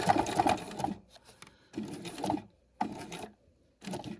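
A sewing machine stitches along the edge of backpack strap webbing in close, loud bursts, running briefly, pausing, then starting again about four times with quiet gaps between runs.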